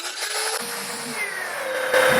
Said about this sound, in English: We will drill to connect the faucet